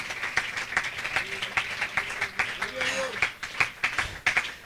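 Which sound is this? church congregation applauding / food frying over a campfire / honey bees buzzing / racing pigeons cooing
church congregation applauding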